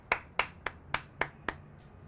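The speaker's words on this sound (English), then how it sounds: "Adam, let's give claps for the follow." Six crisp, evenly spaced hand claps from a single person, close and fairly quiet, in a quick steady rhythm with no talking over them.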